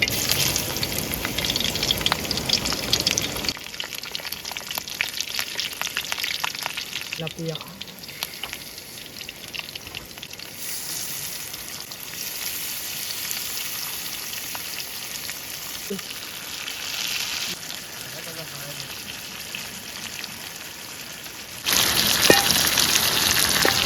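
Garlic-coated tilapia fish fry in a pan at a rainy night campsite beside a dam, giving a continuous hiss and sizzle with occasional stirring clatter, steady and close throughout.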